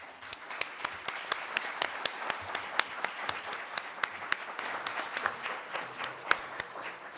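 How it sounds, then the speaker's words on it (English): An audience at a humanities network annual meeting claps in steady, moderately close applause, many hands in a dense continuous patter that holds evenly throughout with no talking. "And let's have a round of applause."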